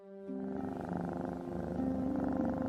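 A pet cat purrs continuously and close up, a steady rumbling drone that swells slightly louder toward the end, with no talking.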